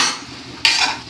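Prawns frying in a pan with masala and salt, stirred by a utensil: a steady broadband sizzle with a sharper scrape and clatter of stirring near the end, close and fairly loud.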